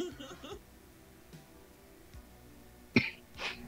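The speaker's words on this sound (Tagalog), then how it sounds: "Bato kayo inuubo" A few faint throat sounds are followed by a sharp, close cough and then a softer second cough, with quiet background between.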